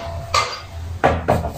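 Air fryer bucket being slotted into and handled inside the fryer, giving three hard clattering knocks, one single and then a close pair, with a low hum running underneath.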